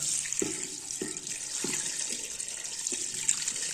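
Water is poured steadily into a pressure cooker for shami kabab, a soft hissing flow close by, with a few faint clinks or knocks underneath.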